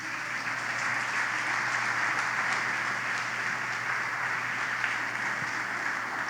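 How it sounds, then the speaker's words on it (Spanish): A church congregation giving the Lord a loud round of applause, dense steady clapping from many hands filling the room without a break. "dele un fuerte aplauso al Señor"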